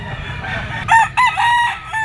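Rooster crowing from an 11-month-old lemon sweater stag of a yellow-legged lemon bloodline with a straight comb, kept by a backyard breeder. Several short, loud bursts of crowing come close by, with a steady farmyard hum beneath and no talk.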